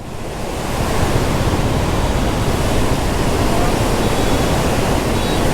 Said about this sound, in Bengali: ওরে ওরে সেই সেই অসাধারণ পানির উতাল ঢেউ